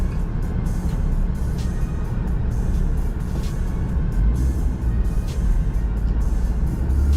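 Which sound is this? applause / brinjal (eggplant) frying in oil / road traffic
road traffic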